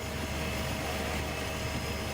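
A single-engine Cessna light airplane in flight over Tanzania with its cabin door held open, giving a loud, steady, close roar of engine and rushing wind with no pause and no talking.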